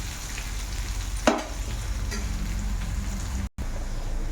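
Spine gourd (kasara kai) pieces fry in a pan with a steady, close hiss. One sharp scrape of a stirring spoon cuts through early on, and there is no speech.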